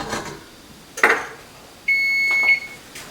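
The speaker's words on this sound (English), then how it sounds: "The gravy timer is just about to go off." Electronic kitchen timer beeping while gravy cooks during Thanksgiving prep: a short chirp, then a steady sustained beep lasting under a second, close and clear in a quiet kitchen.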